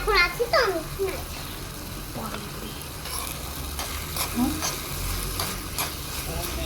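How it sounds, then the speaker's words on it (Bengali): Kalmi greens (water spinach) are stirred in a small pan in a miniature cooking setup. A utensil scrapes and clacks at irregular moments over a soft sizzle. A voice comes in now and then. "শাক আমি একটু নাড়াচাড়া করি।"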